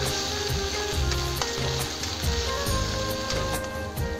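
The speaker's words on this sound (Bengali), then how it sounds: "এই পেঁয়াজ বাটাটা ভালো করে ভেজে নেব" Onion paste frying in a pan for a Bengali potato and cauliflower curry, a steady close sizzle with crackling pops and occasional stirring scrapes, no talking.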